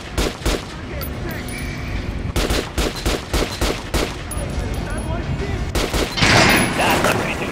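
Gunfire in Metro Last Light Redux, with sharp bursts of shots in uneven clusters and a louder volley near the end, close and prominent.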